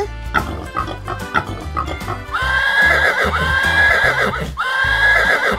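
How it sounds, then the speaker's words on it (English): A horse whinnies three times in a row, loud and close, each neigh a long shrill rising and falling call, with some thumping at the start. "horse,"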